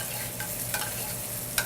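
Butter is stirred into a sauce in a pan to mount it, giving soft scraping swishes with a light sizzle, a few distinct strokes over a steady low hiss, close by with no talk.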